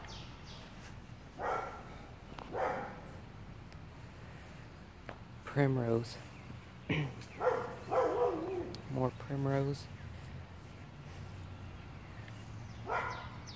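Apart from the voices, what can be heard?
dog barking in the background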